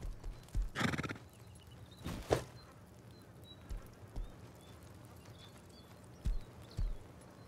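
Horse in the Rust video game whinnies and neighs loudly twice, with soft clip-clopping hoofbeats scattered through the rest of the stretch, fairly close and without any talking.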